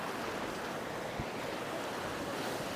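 A river and waterfall rush through Pahalgam valley in Kashmir, making a steady broadband roar of flowing water that holds constant throughout with no voices.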